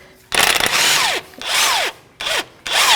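Impact or power tool spinning out the long 13mm axle bolt on a 2011-2018 Volvo S60 front knuckle, in four loud close bursts of whirring with falling whine, separated by short pauses.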